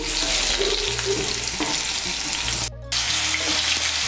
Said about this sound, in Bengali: তেলটা গরম হয়ে গিয়েছে, এর মধ্যে আলুগুলো ভেজে নিচ্ছি।